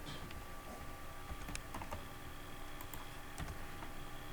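Steady typing on a computer keyboard during HTML coding, a continuous stream of soft, close key clicks over faint background hum, with no talking.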